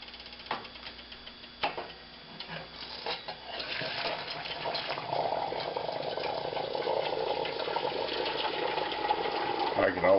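Just-boiled water poured over a drip coffee maker on a stove, building into a steady close trickling rush of liquid running through after a few clunks at the start.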